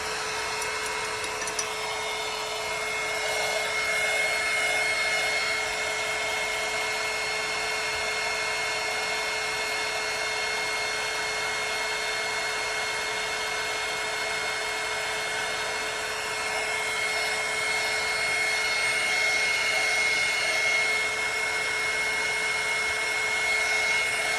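A hair dryer dries craft paint on a fall landscape painting, blowing as a steady, continuous whir with a high whine close by for about twenty-four seconds.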